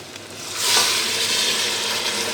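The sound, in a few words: water added to frying beef trotters with spices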